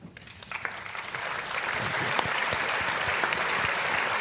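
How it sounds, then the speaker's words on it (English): A prerecorded burst of crowd applause rises quickly and holds as dense, steady clapping for several seconds, loud and even, with a trace of background voices underneath. "Can we hit the claps?"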